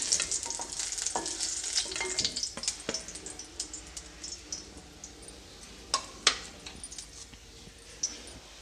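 Finely chopped okra frying in a pan, a gentle continuous sizzle broken by scattered scrapes and taps of stirring, close and quiet with no talk.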